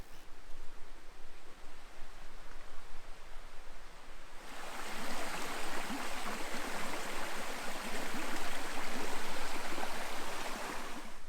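Water of the east branch of the Yeerung River flowing into pools at the bottom of a gorge, a steady broadband rush that grows louder and fuller partway through, with no voices.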